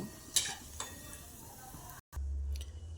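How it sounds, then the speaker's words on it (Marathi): Small kurdai wheat crisps fry in hot oil with a soft, even sizzle, sharp clinks of a utensil on the pan, a brief dropout, then a louder rumbling burst. "आता कुरडे आपण तळून घेतो छोटे छोटे कुरड्या केलेल्या आहे"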